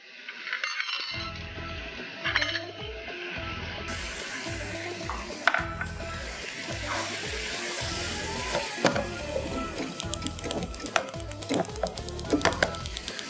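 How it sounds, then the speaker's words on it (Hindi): Meat and yogurt sizzle steadily in a pot while bhuna gosht cooks for yakhni pulao, with repeated metallic clinks and scrapes of a stirring spoon against the pot and no talking. "और इसको हम अच्छी तरह भूनेंगे"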